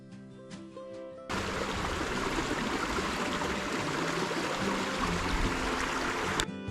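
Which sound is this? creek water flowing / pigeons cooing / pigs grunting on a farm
creek water flowing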